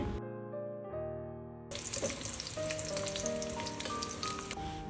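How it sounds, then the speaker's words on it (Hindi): Spices and fried onions sizzle in a hot pan for keema biryani, a steady crackling fry that jumps up loudly as the onions go in and holds close and continuous with no talk. "इनको डाल के हम अच्छी से थोड़ा सा फ्राई करेंगे"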